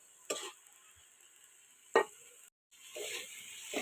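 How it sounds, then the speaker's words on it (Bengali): Vegetable bhaji sizzling as it fries in a pan at home, with a few short stirring scrapes and brief bursts of frying noise over a quiet background. "এই যে ভাজি ভাজা ভাজা হয়ে আসছে"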